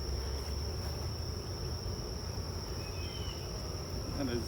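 Agitated honeybees buzzing around an open hive during an early-morning summer inspection, a dense steady drone of wings close to the listener, fairly quiet and continuous.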